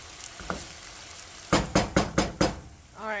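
Vegetables frying in a pan while a home dinner is cooked: a steady soft sizzle runs throughout, broken midway by four sharp, evenly spaced knocks of stirring against the pan.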